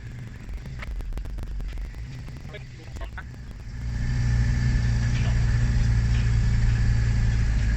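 A car engine labors uphill in first gear, heard from inside the cabin: a steady low drone that swells louder and higher partway through and holds, with people talking over it.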